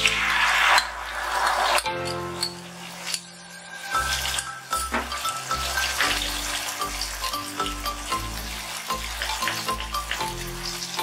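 Poppy seed paste with chili powder and turmeric, frying in a pan for a pointed gourd dish, makes a brief sizzle that fades, followed by softer bubbling under steady background music.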